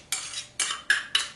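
Utensil scraping and clinking against a bowl while a fresh cheese mixture is stirred, four short bursts in quick succession, close and fairly quiet.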